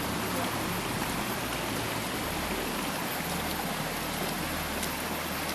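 A river stream flows with a steady, broad rushing wash throughout, moderately loud and continuous, with no clear speech over it.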